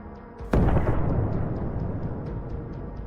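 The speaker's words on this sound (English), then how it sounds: "The Ukrainian tank fired once, hitting it from the front, and then fired a second round, again striking the APC head-on." A Ukrainian tank fires a round that strikes a Russian armored personnel carrier head-on: one sharp, loud blast followed by a long rumbling decay, heard at a distance with no voices.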